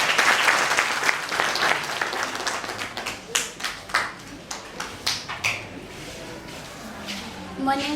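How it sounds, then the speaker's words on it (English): A classroom of students claps hands for a presenter, a dense burst at first that thins into scattered individual claps and fades to quiet by the end. "Let's clap hands for her"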